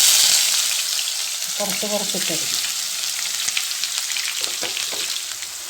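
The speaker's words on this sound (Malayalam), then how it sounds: "ഇനി ഇതിനകത്ത് നമുക്ക് ബിരിയാണിക്ക് വേണ്ട ഉള്ളി വറുത്തെടുക്കാം" Onions sizzling as they fry in refined oil and ghee for a Thalassery chicken dum biryani, a steady bright crackle running throughout, with brief voice murmurs and a few stirring clinks partway through.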